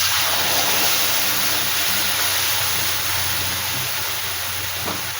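Aubergine frying in a pan with mustard and poppy seed paste gives off a loud, steady sizzle that hisses on without a break.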